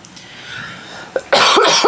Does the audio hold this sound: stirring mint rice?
no